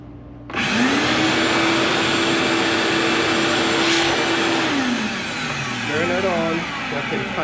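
A wet vac motor switches on with a thump and runs as a loud steady close whine, its pitch dropping as it winds down near the end while a person talks.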